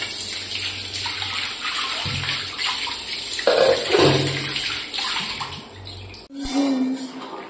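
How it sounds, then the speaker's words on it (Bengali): Water from a tap pours steadily into a cooking pot in a home kitchen while vegetarian paneer rice and potato curry are made, a continuous splashing rush with brief pauses and shifts in flow. "জল দিয়ে দিচ্ছি ওতে।"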